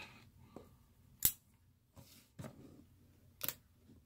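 A dash camera box is cut open with a blade, giving a few sharp, separate slicing and scraping strokes spaced apart in a quiet room, one louder snip standing out.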